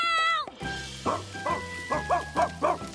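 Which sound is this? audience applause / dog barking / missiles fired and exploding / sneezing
dog barking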